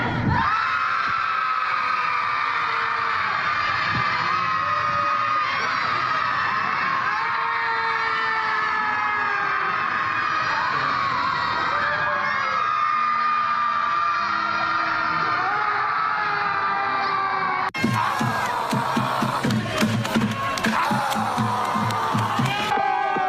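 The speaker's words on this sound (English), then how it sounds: "thousands of people in cities across the country will scream helplessly at the sky" A large crowd screams and yells at the sky in a city protest marking one year since Donald Trump's election. The roar of many voices is loud and sustained, with a sudden, rougher burst of noise near the end.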